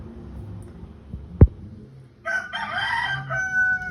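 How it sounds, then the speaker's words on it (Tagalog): A sharp thump, then a rooster crows loudly nearby, its long harmonic call filling the last second and a half. "Ingay ng manok."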